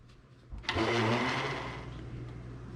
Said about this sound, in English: Because this blender is not the best, I try to mix it up a little before I start blending.